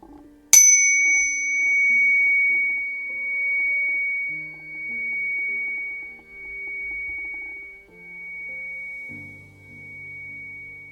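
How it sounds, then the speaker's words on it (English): A single struck meditation chime rings out once with a bright strike, then a long, clear sustained tone that slowly fades while soft background sounds continue. "I'm going to strike the chime to mark this space as sacred and aligned"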